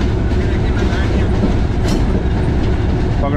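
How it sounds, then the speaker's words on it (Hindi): A Millat Express train rumbles past close by through a railway station in Pakistan, steady loud clatter of wheels on rails with a dense low roar throughout. "पास थ्रू हो रही है ट्रेन"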